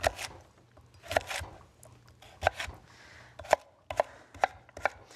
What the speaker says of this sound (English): So just keep chopping nicely, and eventually you get it all done.